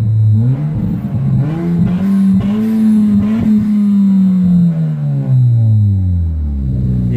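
A 2008 Dodge Caliber SRT4 engine idles and revs up close, the tone rising and holding steady before falling back, loud and alone in a backyard.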